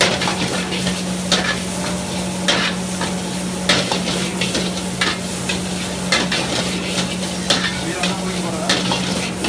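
Rice with pepper powder stir-fries in a pan, a steady loud sizzle broken by repeated scraping and clanking strokes of a spatula stirring the grains.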